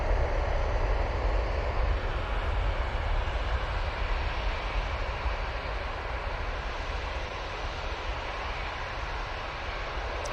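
Engines of a departing TUI Boeing 737 MAX 8 at Manchester Airport, outbound to Boa Vista, give a continuous wide roar with heavy low-end rumble that eases gradually in loudness over the stretch, alone without talk.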